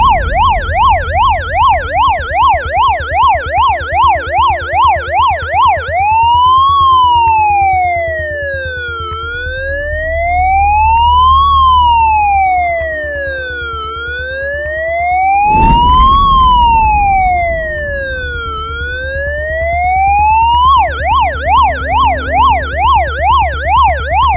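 An ambulance siren blares loudly throughout, switching between a rapid yelp and a slow rising-falling wail, with a brief thump midway.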